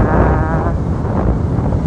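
Loud wind buffeting the microphone at a beach, a dense rumbling roar that fills the clip without pause.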